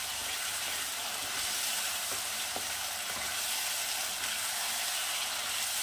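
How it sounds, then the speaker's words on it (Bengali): Spice paste frying and sizzling in a pan with a little water for a Bengali fish curry, a steady close hiss with faint stirring clicks throughout. "1/4 কাপ একটু জল দিয়ে মশলাটা কষাবেন।"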